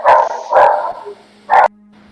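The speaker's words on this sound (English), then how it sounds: "A lot of barking there" Dog barking inside a warm great hall of timber and stone: three loud, close barks, two in quick succession and a third after a short pause, with no talking.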